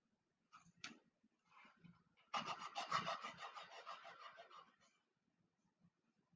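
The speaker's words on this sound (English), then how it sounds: "Let's give this a little bit of sanding." Soft rhythmic rasping of light sanding on delicate wooden model roof truss pieces, a few brief strokes followed by a longer run of quick scratchy rubs, close and fairly quiet.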